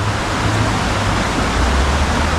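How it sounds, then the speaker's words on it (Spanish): A river runs beneath a small footbridge, its steady broadband rush loud and close, with a low hum underneath and no speech. "También andamos cruzando un puentecito por encima del río."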